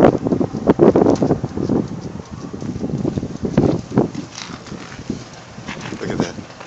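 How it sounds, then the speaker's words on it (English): Strong wind whips during a snowstorm in Barrow, Alaska, gusting and buffeting the microphone in uneven surges while people talk over it. "That wind is whipping."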